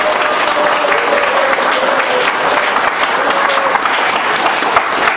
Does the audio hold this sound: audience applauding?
yes